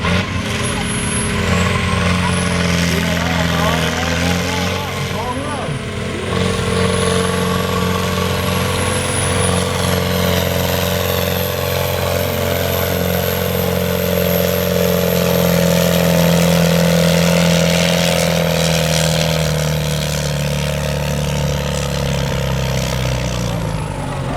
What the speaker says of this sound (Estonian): Turbo ajab käima, ajab pöörd ülesse